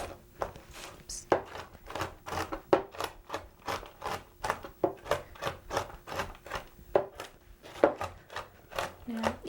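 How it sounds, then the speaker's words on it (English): Repeated sharp knife strikes as pecans are chopped fine on a cutting board, steady rapid rhythm of close, crisp taps with a brief scraping sweep partway through; no talking. "Now, you can see I'm chopping these pretty fine."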